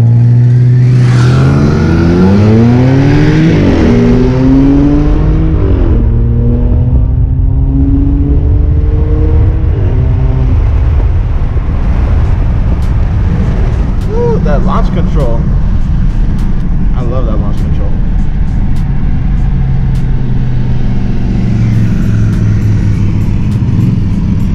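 An all-wheel-drive Audi A7 making about 400 horsepower at the wheels and an 80-horsepower cruiser motorcycle rev and accelerate hard in a roll race, loud and continuous with rising engine tones and gear shifts, with people talking over it.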